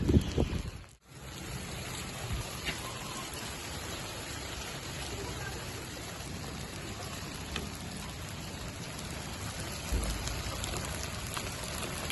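Steady rain falling on a rooftop in the morning, a dense continuous patter of drops at an even level throughout, with a brief handling knock near the start and no speech.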